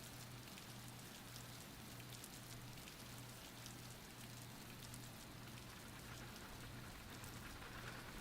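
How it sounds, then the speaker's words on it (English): Rain falls steadily in a visual novel game, a constant hiss of raindrops on surfaces with a faint low hum beneath, even and unbroken throughout. "His mind wandered as he listened to the sound of the raindrops."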